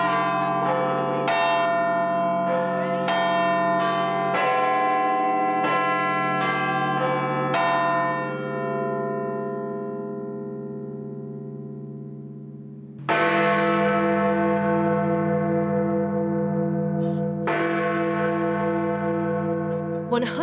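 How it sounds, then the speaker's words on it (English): Big Ben, the huge bell of the Great Clock of Westminster in London, strikes the hour with slow, booming, resonant chimes that ring out and decay, with a long fading gap before two more heavy strikes. "This is the huge bell that gives the Great Clock of Westminster its more famous nickname, Big Ben."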